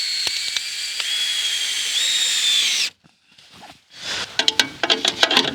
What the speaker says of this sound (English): let's go ahead and drive it home